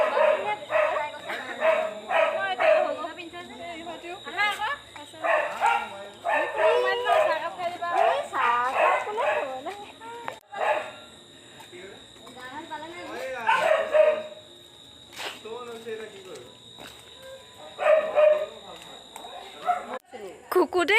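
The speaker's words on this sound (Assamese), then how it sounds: "কুকুৰটোৱে ভুকি আছে, ইমান মৰম লগা।" A dog barks in short repeated yips and bow-wows during a Durga Puja outing, the bursts coming in clusters over ongoing conversation and background chatter.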